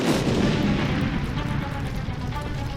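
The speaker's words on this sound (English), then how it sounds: "the first explosion rocked the building" A massive explosion roars continuously, a deep, loud rumble that fills the whole moment without letting up.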